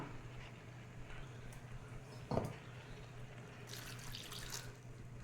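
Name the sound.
water poured into pan of tomato and onion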